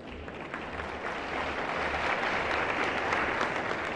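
An audience at a peace-promotion gathering applauding a group of traditional chiefs, steady dense clapping that holds and swells slightly over several seconds with no speech.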